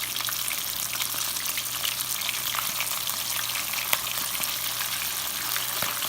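Chicken livers dredged in flour fry in hot oil, giving a steady, dense sizzle with crackling pops throughout, close and moderately loud, with no talking.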